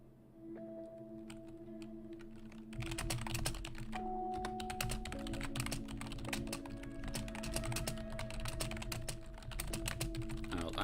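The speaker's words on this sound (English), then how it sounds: "I know some people really hate that typing thing." Computer keyboard typing in quick, irregular bursts of many crisp clicks, soft at first and then dense and busy, heard close and without talk over a faint steady hum.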